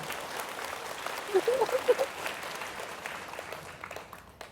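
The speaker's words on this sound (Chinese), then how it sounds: "那我们给他鼓掌一下好不好？" An audience gives a short round of clapping at a talk, moderate and somewhat distant, with a voice briefly audible over the applause before it fades out.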